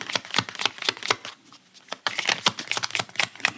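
Tarot cards being shuffled and drawn, a close, fast run of crisp riffles and flicks with a brief lull near the middle before the rapid shuffling picks up again.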